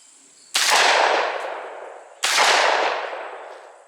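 A shotgun fires twice at a target outdoors, each blast a loud, sharp report followed by a long decaying echo, spaced well apart with no talking.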